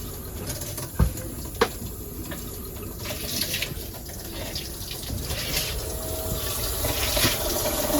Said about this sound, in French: je débouche les tuyaux